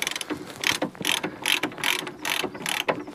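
A ratchet wrench spins off 22 mm bolts on an Iveco Daily front suspension plate, giving about seven quick bursts of rapid metallic clicking in an even back-and-forth rhythm, close up.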